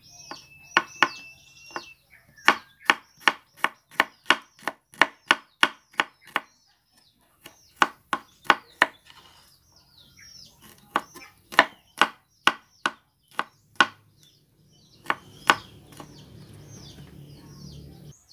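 Garlic is minced with quick, rhythmic knife strikes on a cutting board, in long steady runs broken by short pauses, with faint chirping behind.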